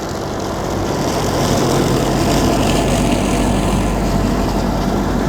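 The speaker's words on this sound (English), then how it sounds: "It's a bigger mower than mine" A large mower, wider than a 3-meter machine, runs steadily in a harvest field of friable clay soil, giving a loud continuous engine drone and whirring blades with no gaps or speech.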